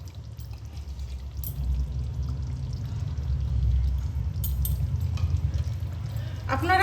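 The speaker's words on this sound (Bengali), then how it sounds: "এবার আমি নামাবার আগে 2 চামচ ঘি দিয়ে দেব।" Two spoonfuls of ghee go into a jackfruit kofta curry just before it comes off the heat, a soft low pouring and bubbling sound that swells and stays steady, close by.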